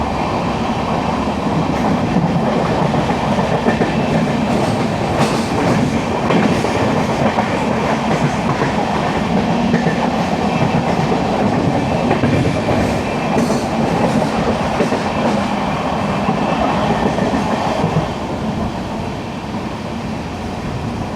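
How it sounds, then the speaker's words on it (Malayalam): Kannur–Alappuzha Executive Express train running on rails, a steady loud rolling roar with rhythmic wheel clatter throughout, easing slightly near the end. "നമ്മുടെ കണ്ണൂർ ആലപ്പുഴ എക്സിക്യൂട്ടീവ് എക്സ്പ്രസ് ആണിത്."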